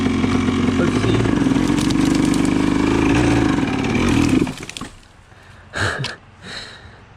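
A Yamaha Blaster ATV engine runs loud and close on an off-road ride, holding a steady buzzing drone for several seconds, then cutting out, followed by a couple of short engine bursts.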